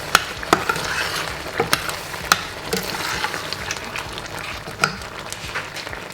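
Prawns cook in a pan for a Caribbean curry with a steady close sizzle and frying hiss, broken by sharp clicks and scrapes as they are stirred.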